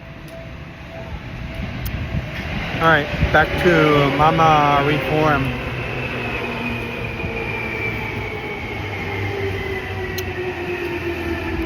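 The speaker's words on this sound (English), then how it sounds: "Comes the train." A train rumbles and squeals past at moderate distance in Sugamo, Tokyo, rising then settling into a steady roar, with someone speaking briefly over it.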